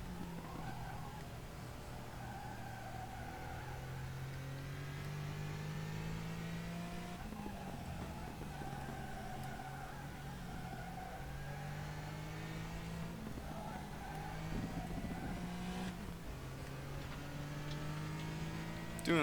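A race car engine in RaceRoom Racing Experience howls continuously, rising in pitch through the gears and dipping at shifts, with tyre noise under it and no speech.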